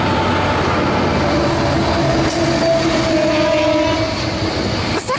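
A train led by locomotive CSR-004 rolls past platform 1 at Tahmoor station, a steady loud rumble of wheels on rail with faint squeal and tonal hum, close by and continuous with no voices.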